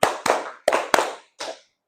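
A group claps hands in a counted pattern, five sharp, dry claps in quick uneven succession: two close together, a short pause, two more, then a final softer clap before silence.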